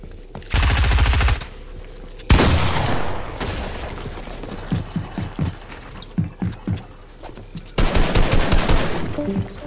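SMG fire in the video game Fortnite comes in several rapid bursts of loud, close shots separated by brief pauses, with a spaced run of single shots in the middle before a final sustained burst.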